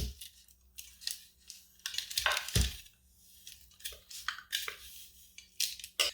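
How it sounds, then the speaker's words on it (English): Thick, sticky granola mixture of oats and honey being scraped and dropped into a baking dish, giving scattered clinks, scrapes and soft thuds in an uneven rhythm, close and fairly quiet. "Now we just take our granola mixture and transfer it into this baking dish."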